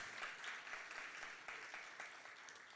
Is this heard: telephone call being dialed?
no